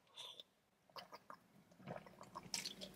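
A person drinks water up close in a quiet room, giving a few soft, wet gulps and swallows in an uneven rhythm.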